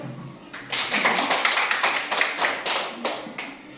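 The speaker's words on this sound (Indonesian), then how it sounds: "Sekali lagi kita beri aplaus." Audience applause at a teachers' training session on positive school culture, a dense burst of many hands clapping close by, rising quickly and holding steady with light rhythmic peaks for several seconds before tapering off.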